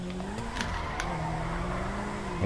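Car engine revving steadily in GTA V with tire squeal as the driver slides sideways using the e-brake on a street, continuous close engine tone throughout.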